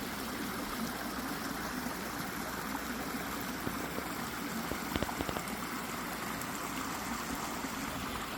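A backyard waterfall runs at night, giving a steady, even rush of falling water with no talk and only a few faint clicks partway through.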